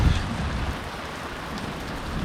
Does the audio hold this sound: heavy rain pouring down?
yes